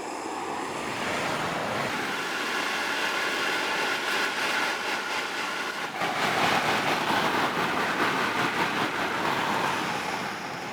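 Heavy rain pours onto a tent during a rain test, a dense, steady hiss and patter that swells louder midway and keeps drumming without pause.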